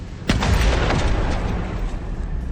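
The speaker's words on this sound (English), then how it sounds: "A smoldering fire finally reaches this T-72's fuel tank, blowing the hole open before spreading to the ammo and truly finishing it off." A smoldering fire reaches a T-72 tank's fuel tank, setting off a sudden loud boom followed by a sustained roaring rumble as the blast spreads, with no voices.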